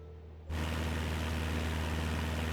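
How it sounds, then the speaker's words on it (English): An airplane engine in a flight simulator game cuts in abruptly and then roars as a loud, steady, broadband drone with a low hum, continuous and alone. "The plane is really loud."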